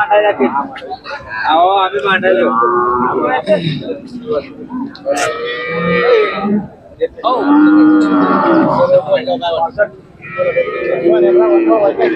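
Khillar cows at a livestock market moo repeatedly, several long loud lowing calls close by, with short pauses between them.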